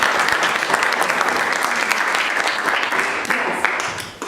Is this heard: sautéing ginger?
no